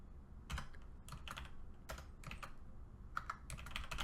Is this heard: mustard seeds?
no